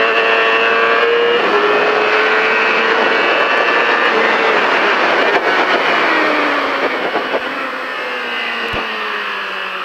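A motorcycle on a racetrack powers out of a corner with its knee down in the grass, engine revving loud and continuous with rising whine and wind roar before tapering slightly at the end.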